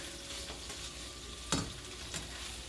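Food fries in a pan while cooking an eggplant sauce, a faint steady sizzle with a single louder crackle partway through and another softer pop later.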